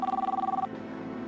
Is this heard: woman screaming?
no